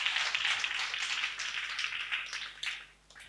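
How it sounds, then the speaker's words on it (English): A church congregation claps during a worship service, a dense burst of clapping that fades gradually toward the end. "Clap for Jesus Christ."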